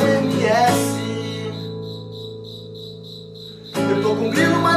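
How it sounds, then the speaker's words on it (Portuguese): A cricket chirps in steady, evenly spaced pulses, clearly audible for a few seconds between louder passages of music. "esse grilo canta a noite inteira"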